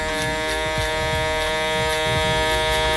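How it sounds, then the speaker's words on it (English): Electric shaver buzzing steadily as it trims hair during a barber's taper fade, a loud close-up drone with a constant high whine and slight fluctuations as the blades move over the head. "so I can go in with my shaver and make sure that my shaver doesn't leave a hard line"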